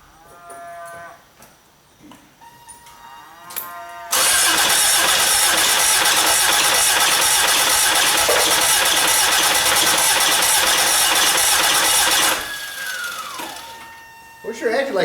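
A 1987 Toyota MR2 engine flooded with starting fluid cranks hard for roughly eight seconds, a loud, dense churning that stops abruptly, with whining tones before and a fading whine after.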